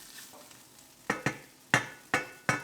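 Omelette mixture sizzles faintly in a frying pan, with several sharp bursts of hissing as it hits the hot surface, close by.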